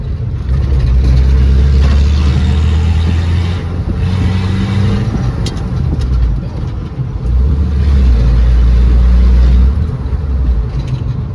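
A 1990 Ford F150 with a 4.9L inline-six engine drives along, its low engine rumble loud and close, rising and easing as it pulls away with no rear brakes, alongside steady road and wind noise.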